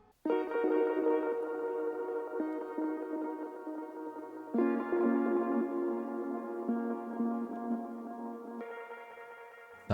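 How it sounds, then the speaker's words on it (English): A dark, sustained synthetic tone from a processed sample shifts in pitch a few times, smeared with echoing delays and a long spacious reverb tail. "Sounds like spaced out with these delayed effects and the reverb."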